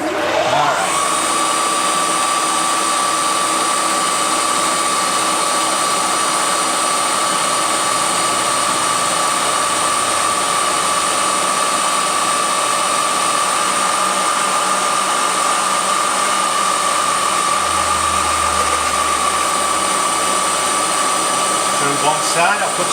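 Three-phase rotary converter running in a workshop, a loud constant electrical whine and motor hum that holds steady for the whole stretch without change.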